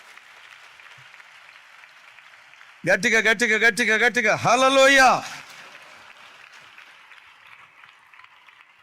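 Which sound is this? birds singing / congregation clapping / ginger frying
congregation clapping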